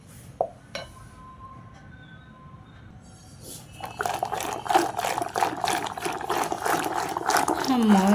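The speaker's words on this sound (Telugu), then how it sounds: "బుస్సు వచ్చేంత వరకు తిప్పడమే." Cream and water being hand-churned in a vessel to make ghee, sloshing and clinking in a steady, rapid rhythm that grows louder and more frothy over the second half, close by and without talk.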